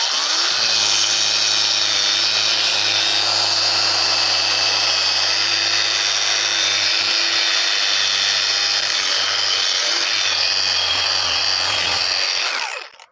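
A cheap cordless angle grinder sanding a piece of wood, a loud, steady high whine with a grinding hiss held for about twelve seconds before it cuts off, close and with no voices.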